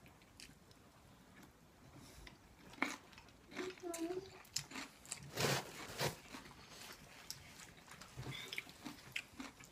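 Someone eats som tam papaya salad with wet chewing and intermittent crunchy bites at close range, while a voice talks over the eating.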